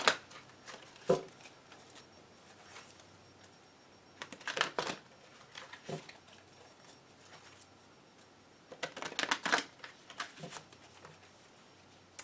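Angel cards shuffling in a few quick riffling bursts, close and crisp, with quiet pauses and soft handling sounds between them; no talking.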